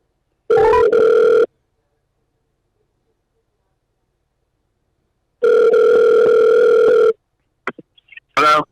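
A phone line rings out while calling a cell phone: two loud, steady buzzing ring tones separated by a long silence, followed by a few brief clicks and noises.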